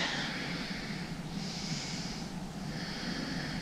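Yoga breathing during a standing stretch, slow audible breaths with airy inhales and exhales cycling steadily, close and fairly quiet.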